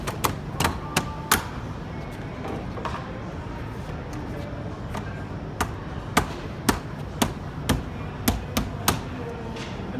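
Composite brick mold covers are tapped into place on a window frame, a string of sharp, close taps and knocks, irregular at first and then evenly spaced, over faint background noise.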